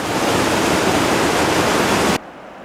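A river rushes beside a mountain trail in the Sierra near Whorl Mountain, a loud, steady broadband wash of flowing water that cuts off abruptly near the end, leaving faint background.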